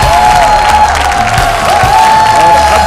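A crowd at a dance show gives a loud, dense wash of applause and cheering to welcome a guest, with a sustained musical tone running underneath.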